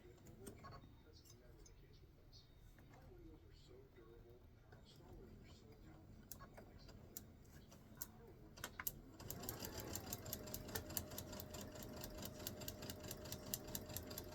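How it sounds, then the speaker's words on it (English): A sewing machine top stitches along the edge of a quilted pot holder, its fast steady motor hum and needle ticking starting partway through after quieter handling noises and talk. "we're going to top stitch"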